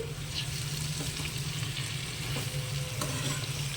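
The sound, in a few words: gongura leaves frying and being stirred in tempering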